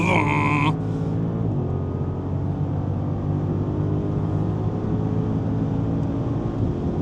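An Audi SQ8 with a 4.0L V8 accelerates from 100 to 200, its engine droning as a steady low cabin roar that holds evenly after a brief chime at the start.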